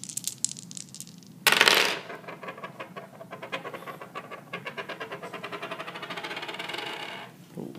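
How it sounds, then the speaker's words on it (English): Three dice rerolled during a fast two-player card and dice game, a sharp clatter as they are thrown, followed by a long run of light rattling and tumbling clicks on the table, close and fairly loud with no talking. "he rerolls these 3 dice"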